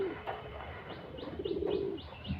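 White Madras pigeons coo close by in soft, repeated throaty rolls, several short calls in a loose rhythm over faint background noise.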